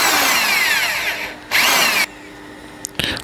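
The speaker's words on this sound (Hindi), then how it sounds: "और इसमें हम ड्रिल से होल कर लेंगे।" An electric drill bores a hole in a homemade RC aeroplane part, loud and close, its whine running for over a second, pausing, then a second short burst, followed by quieter handling clicks and a brief final spin.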